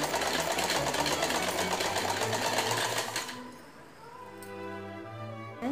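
A sewing machine runs steadily and loudly for about three seconds while stitching lace onto the sides of a dress petticoat, then stops, leaving a quieter tonal hum.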